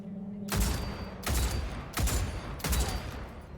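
Four heavy, evenly spaced shots from a precision rifle in the game Cyberpunk 2077, each a sharp loud crack with a short booming tail, close and alone without talk.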